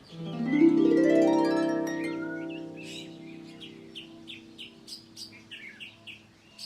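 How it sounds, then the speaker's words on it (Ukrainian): A cricket chirps in a children's alphabet cartoon, beginning with a loud sustained tone that fades into a run of short, regular high chirps that repeat alone until the end. "Цвіркун."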